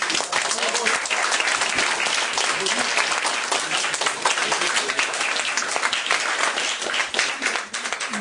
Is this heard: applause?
yes